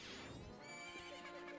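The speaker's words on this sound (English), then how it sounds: "Fucking horse!" A horse whinnies once in The Legend of Zelda: Majora's Mask, a short, bright neigh that falls in pitch and fades out over game music, with no talking.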